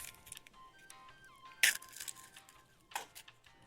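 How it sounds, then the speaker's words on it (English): Eggs are cracked into a metal bowl, giving two sharp cracks with faint ringing tones from the metal. The sounds are quiet, close and heard alone. "It's someone cracking eggs in a metal bowl."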